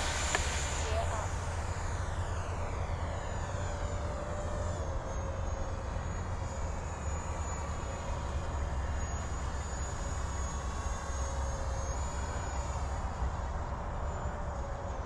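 A Hobby King Flycat V2 radio-controlled electric ducted-fan plane makes a high-speed pass, its fan producing a loud, steady whine that holds at even loudness for the whole stretch, with the pitch sweeping slightly as it passes.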